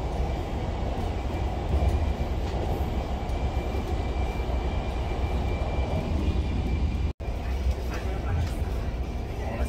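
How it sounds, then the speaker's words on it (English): Riding a train in Atlanta on the way to the airport: a steady, close rumble of the rail car fills the whole stretch, briefly cut out once, with faint voices in the background. "On a train in the A."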